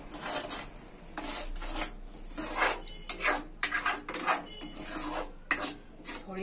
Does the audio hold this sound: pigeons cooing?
no